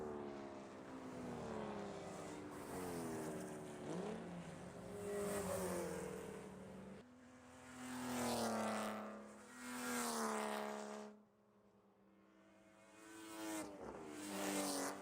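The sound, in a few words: Porsche Cup race cars driving past on the Buttonwillow track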